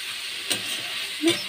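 A spice mixture sautéing in a pan, a steady soft sizzle with two brief stirring scrapes.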